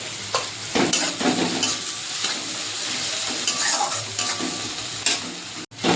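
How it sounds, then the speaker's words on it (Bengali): Chopped onion with salt frying in hot oil in a pan for a tilapia curry, stirred steadily so a constant sizzle is broken by repeated scraping strokes, close and fairly loud with no talking. "পেঁয়াজটাকে ভাজা হয়ে গেছে"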